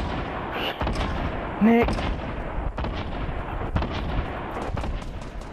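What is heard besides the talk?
shotgun gunfire in Fortnite video game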